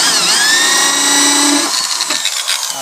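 A power drill cutting a hole in a kayak hull for a flush-mount rod holder, a loud close whine that dips as the bit bites, then rough grinding as it breaks through.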